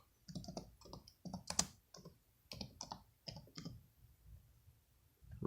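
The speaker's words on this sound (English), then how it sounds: "So I'm gonna type in the code whenever it pops up." Typing a code on a computer keyboard: a run of irregular, close, crisp key clicks in bursts, with short pauses between groups of presses and one sharper tap near the middle.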